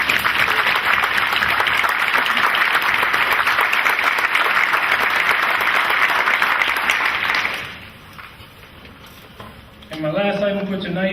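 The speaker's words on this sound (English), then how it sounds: "Please give yourselves and them a round of applause." An audience at an awards ceremony gives sustained, loud applause that fills most of the stretch, then fades out into quiet before a voice begins speaking near the end.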